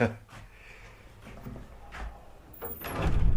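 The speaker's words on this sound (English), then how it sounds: "a pretty heavy door, that's for sure" A heavy old jail door at the Bannack ghost town in Montana moves with dull thuds, scrapes and a metallic creak, ending in a louder heavy knock, close by in a quiet interior with a speaking voice now and then.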